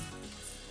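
Mustard seeds sizzling in hot oil in a pan, a steady, soft, hissing crackle that fills the whole short moment.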